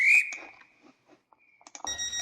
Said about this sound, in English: So, we can blow the whistle.